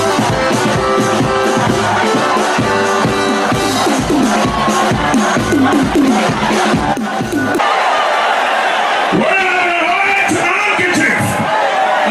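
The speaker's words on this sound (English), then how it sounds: "With a huge round of applause, let's welcome" An audience at a live morning show event yells and cheers in loud, sustained bursts of whoops and shouts, blended with tonal, music-like sounds and voices throughout.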